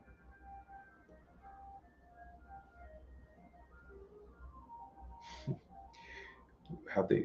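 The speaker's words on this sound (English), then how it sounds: "what you just heard there, if you heard it at all, was the ice cream truck making its rounds in the neighborhood" Ice cream truck making its rounds in a neighborhood, its melody faint and distant and repeating under low background noise, with a few closer breathy or clattering sounds toward the end.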